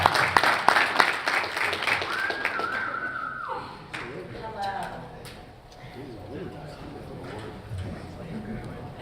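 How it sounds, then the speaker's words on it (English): A panel audience at a sports, medicine and money event claps for Mike James, a burst of applause at the start that fades quickly as voices and cheering carry on amid room noise. "Everybody give a round of applause for Mike James."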